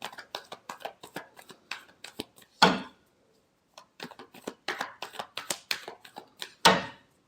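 Tarot cards being shuffled, quick crisp flicking riffles in two bursts with a sharp slap of the deck after each, close and clear with no talk over it.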